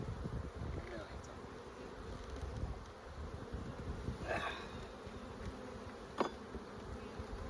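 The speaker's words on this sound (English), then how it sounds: "there's like literally millions of bees" Honey bees swarm thickly around the entrance of a hive with three brood boxes, their dense buzzing steady and close, and a brief voice comes through over the drone.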